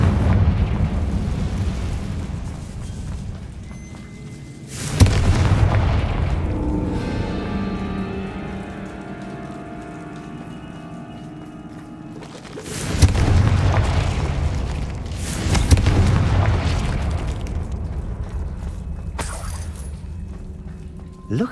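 Confringo fire spell exploding in the video game Hogwarts Legacy: heavy booming blasts, one around five seconds in and a pair of louder bursts later, each rumbling off, with game voices and effects between.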